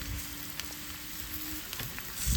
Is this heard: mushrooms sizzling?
yes